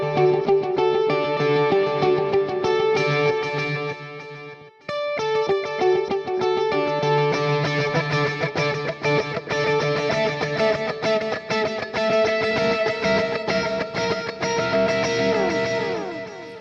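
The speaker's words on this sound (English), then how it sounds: "so pretty good, good delay sound" Electric guitar played through a Quad Cortex preset with delay and reverb, chords ringing with echoing repeats, a brief gap near the middle before dense, sustained playing resumes.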